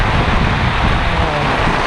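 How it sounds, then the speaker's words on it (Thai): Strong wind roars constantly outdoors during rain, loud and close, with buffeting that fills the whole stretch. "ลมแรงมากอะ่ะ"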